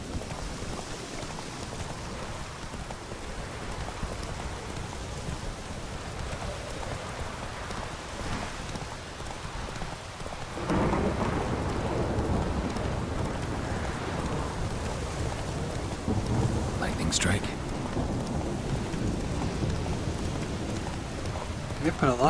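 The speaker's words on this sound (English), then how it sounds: "And it is raining a hardcore." Heavy rain pours steadily in a Witcher 3 storm, a dense hiss that swells louder partway through, with a faint rumble of thunder beneath.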